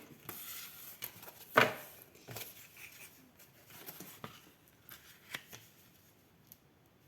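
Paper is cut with a craft knife for an 18x18 photo album, producing faint, close scratchy strokes, one sharper rasp early on, and soft taps spread across a quiet background.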